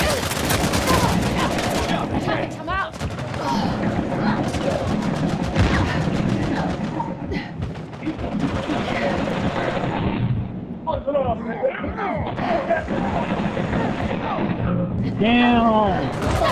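Uncharted 4: A Thief's End on PS4, sustained loud fusillades of gunfire with bursts and explosions packed close together, continuing under a player's frequent talking and shouting.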